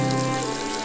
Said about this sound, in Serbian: Voda iz česme u njihovom domu nije za piće.